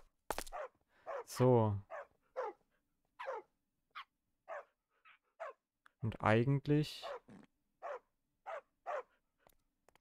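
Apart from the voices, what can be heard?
dogs barking in Minecraft (FTB Revelation modpack), video game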